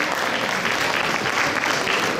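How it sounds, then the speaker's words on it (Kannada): An audience claps again for children's carrom trophy winners at a Deepawali prize-giving: a short, dense, even burst of crowd applause with no pauses. "ಇನ್ನೊಮ್ಮೆ ಜೋರಾಗಿ ಚಪ್ಪಾಳೆ ತಟ್ಟಿ"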